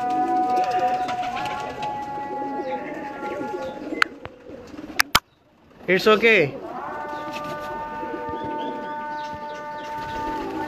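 Pigeons being vaccinated against disease give soft cooing calls nearby, mixed with a short flutter and bursts of other sounds, while someone speaks over them.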